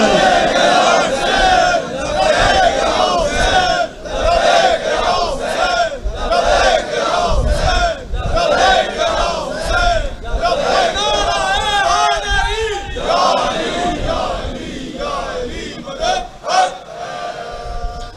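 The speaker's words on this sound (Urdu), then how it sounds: "دونوں بازو بلند کر کے پوری طاقت کے ساتھ مل کے لبیک یا حسین." Large crowd at an imambargah majlis chanting Labbaik ya Hussain in unison with raised arms, repeated loud rhythmic shouts in waves, with a voice leading between the chants.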